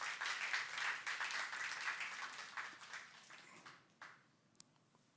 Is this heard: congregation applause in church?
yes